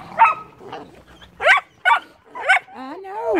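Several high, yappy barks and yips from small puppies in short bursts, ending in a drawn-out whimpering whine, close and fairly loud.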